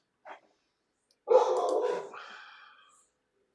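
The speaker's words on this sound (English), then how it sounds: "Dogs barking in the background" A dog gives one short yip, then after a pause a longer barking whine that fades, heard alone and fairly faint in an otherwise quiet room.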